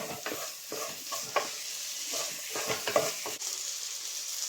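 Chicken pasta seasoned with oregano is stirred in a hot pan, a soft sizzle broken by repeated scraping strokes at an uneven rhythm, close and clear with no talking.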